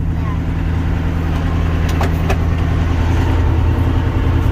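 A tractor engine, the 700, runs at a steady, loud idle close by, with a faint voice briefly audible over the drone.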